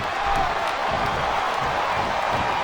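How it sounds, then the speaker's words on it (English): A large wrestling crowd roars and cheers steadily throughout, a dense, continuous wall of noise from a big arena audience. "I love hearing the crowd come alive"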